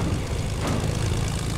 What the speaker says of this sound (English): I found a plane.